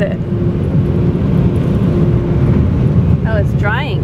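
Automatic car wash dryers blast air onto a car in a steady, loud, broad roar that fills the whole stretch, with a voice exclaiming briefly near the end.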